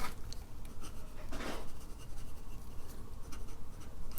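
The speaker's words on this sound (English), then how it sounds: "this nib works really well on rhodia paper. Reverse writing." A Hugo Boss Black Notched fountain pen with an extra fine nib writes in reverse on Rhodia paper, giving a close, continuous faint scratching with a brief louder stroke midway and no talking.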